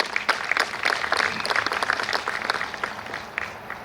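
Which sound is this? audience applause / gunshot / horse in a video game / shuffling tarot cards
audience applause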